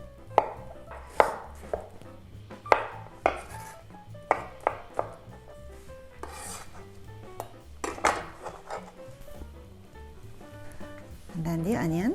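Mushrooms being chopped on a board for a vegan Korean vegetable pancake: a run of sharp, close knife strikes at an irregular rhythm, with brief clinks near the end.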